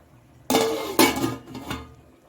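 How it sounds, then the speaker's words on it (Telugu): A metal lid is set onto a pot of cooking bagara rice, making two or three sharp close clanks with short ringing decay and no talking. "మూత పెట్టేసుకుందాం"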